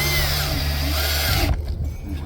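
A power drill drives screws into a wooden planter box with a loud, close, high-pitched whine that stops abruptly about one and a half seconds in, leaving faint room noise.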